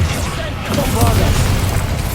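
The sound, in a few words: Bombarda explosion spell from the video game Hogwarts Legacy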